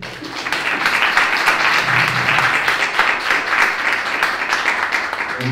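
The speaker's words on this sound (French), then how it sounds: "je pense que vous méritez de vous applaudir" A large crowd at an association general assembly claps in a loud, sustained round of applause, dense and even throughout with faint voices underneath.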